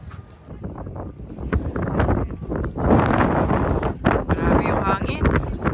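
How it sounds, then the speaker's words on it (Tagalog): Strong gusty wind buffets the microphone on the Howth coast, loud rumbling blasts rising and falling throughout. "Grabe yung hangin."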